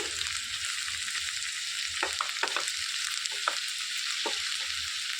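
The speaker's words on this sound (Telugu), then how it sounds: "ఉల్లిపాయలు అనేవి ఇట్లా వేగిపోయాక కాకరకాయ ముక్కలు వేసేసుకోవాలి వేసి కలిపేసుకోవాలండి" Bitter gourd pieces go into a pan of fried onions and are stirred, with a steady sizzling hiss throughout and a cluster of light spoon scrapes and clinks in the middle, close and without talking.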